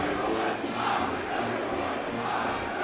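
Bellarmine Bells fans chant in a packed gym before a varsity basketball game against St. Francis, a dense, steady crowd roar with a rhythmic pulse running under it throughout.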